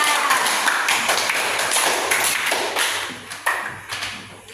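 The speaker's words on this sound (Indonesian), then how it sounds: "berikan tepuk tangan untuk kelompok 3" Classroom of students applauding a group presentation, a dense continuous patter of many hands clapping at close range, steady and fairly loud for several seconds with a few sharper individual claps standing out near the end.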